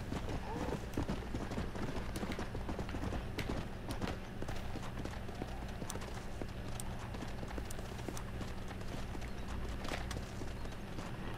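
Horse hooves clip-clopping in the video game Red Dead Redemption: Undead Nightmare, a steady repeated clatter of hoofbeats that runs throughout, moderately loud, with game ambience underneath.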